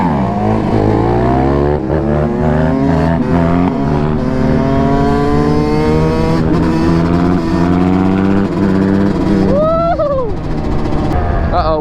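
A two-stroke dirt bike engine revs loud and close throughout, its pitch climbing and falling in sustained harmonic sweeps, with a voice briefly audible under the engine near the end.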